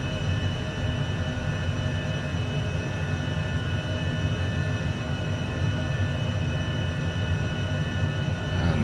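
A steady engine drone from an H420 helicopter in Microsoft Flight Simulator 2024, a constant low rumble with a faint high turbine whine, even and unbroken with no speech.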